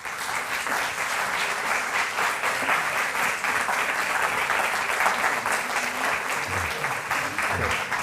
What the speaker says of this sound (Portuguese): Uma salva de palmas, por favor, para João Luís Barreto Guimarães.